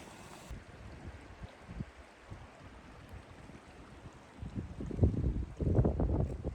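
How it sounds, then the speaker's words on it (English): Wind blows outdoors on a hike beside flooded, recently cleared woodland, a steady buffeting rush against the microphone that grows louder and gustier toward the end. "I feel that wind."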